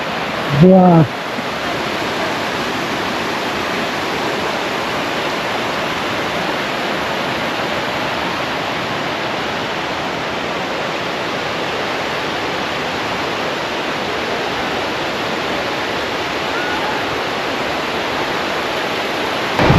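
A constant roaring rush of water falling at Ananthagiri waterfall in the Araku Valley hills fills the air, loud and unbroken from start to finish.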